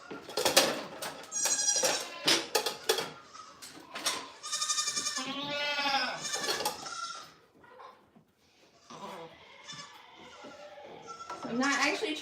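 Goats on a goat farm bleat loudly and repeatedly at close range, wavering cries in an uneven series with short pauses, mixed with people talking nearby.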